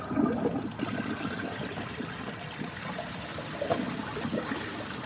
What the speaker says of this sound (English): now I'm gonna give it the proper flush